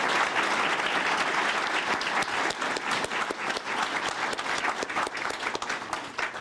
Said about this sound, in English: Let's get a round of applause for the 2018 graduates of the Citizen Academy.